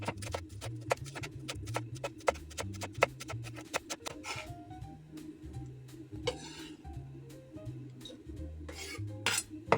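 A knife chops spring onions on a cutting board for vegan mapo tofu, a fast, steady run of sharp taps. Soft, low background music plays beneath, and no one speaks.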